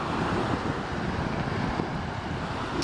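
Lake waves wash steadily against the shore under constant wind buffeting the microphone, a dense continuous rush with no distinct breaks.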